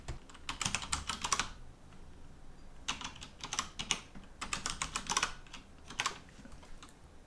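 Typing on a computer keyboard to enter a root password while setting up an unRAID server, in three bursts of rapid close-up key clicks separated by short pauses, with no voices.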